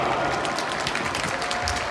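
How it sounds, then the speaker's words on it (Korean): A stadium crowd at a men's high school 5000m final claps and cheers for a runner entering the home straight, a dense, steady wash of distant applause with no clear talk above it. "박수 한번 보내주시기 바랍니다"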